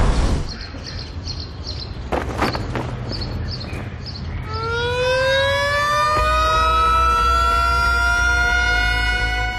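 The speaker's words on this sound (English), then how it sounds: "they're going to sound the siren for me again." Celebration siren at the Dawsonville Pool Room in Georgia, sounded for a Chase Elliott Talladega win, winding up from about four seconds into a loud, rising wail over crowd noise and scattered cheers.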